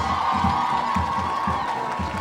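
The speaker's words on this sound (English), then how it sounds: "Let's clap for them once again." Graduation ceremony audience clapping and cheering for teachers, dense continuous applause with whoops and a steady rhythmic beat underneath, fairly loud and close.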